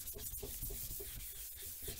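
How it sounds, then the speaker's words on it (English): Softback sponge sanding a plastic car headlight lens to key up the surface, a close, steady scrubbing with repeated back-and-forth strokes about every quarter second. "I'm just keying up the surface, trying to get all the dirt."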